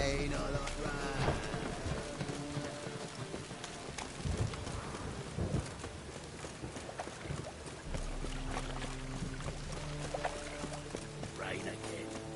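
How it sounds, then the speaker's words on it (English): Steady rain pours with low rolling thunder in The Witcher video game, a continuous wash of rainfall under game music and occasional speech. "Rain again."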